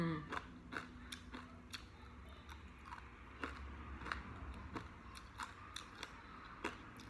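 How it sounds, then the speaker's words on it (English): Crunchy bacon being chewed up close, with sharp repeated crisp bites and crunches in an irregular rhythm, fairly quiet and alone without talk. "Listen to that crunchy bacon."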